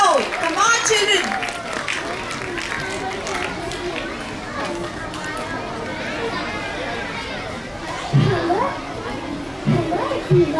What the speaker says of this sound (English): Can we motivate our friends with a big round of applause?